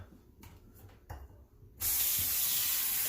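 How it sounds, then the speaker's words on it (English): Water runs over quinoa in a small strainer, starting abruptly after a couple of seconds of quiet clinks and taps, then a loud, steady hissing spray that continues without pause. "they recommend to just give it a little rinse, just like you would rice."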